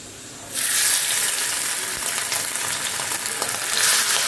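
Prawns hit a nonstick pan with only a little oil and burst into a loud, bright sizzle that holds steady with fine crackling and spitting, flaring up again near the end, with no voices.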